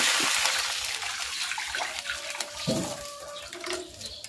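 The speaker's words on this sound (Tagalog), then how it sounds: "Maglalagay na ako dito ng tubig." Water pours and splashes steadily into a cooking pot holding garlic and onion, a continuous gushing with a few clanks, fairly close.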